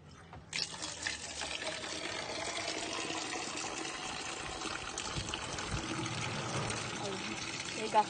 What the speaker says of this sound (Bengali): এবার এক বালতিই জল করে নেবে।